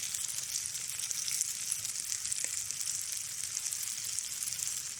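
Steady, crackling sizzle of bread frying in butter over a twig stove outdoors, a dense hiss that runs unbroken throughout with no voices.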